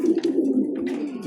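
A racing pigeon coos at the loft, a close, loud, continuous throaty burble heard alone for about a second.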